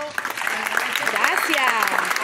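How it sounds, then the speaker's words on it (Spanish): Audience applause at the closing of the Regionalito 2022 tournament, steady dense clapping over a short stretch with voices talking and calling out through it. "yo les pido un fuerte aplauso"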